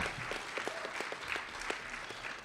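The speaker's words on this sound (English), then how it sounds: "give them a big round of applause" Brief burst of crowd applause at a civil rights rally, many hands clapping together at moderate volume, lasting a couple of seconds.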